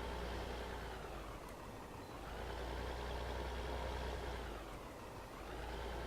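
A tractor engine in Farming Simulator 2015 idles with a steady, loud low rumble that swells and eases slightly, with no other sounds standing out.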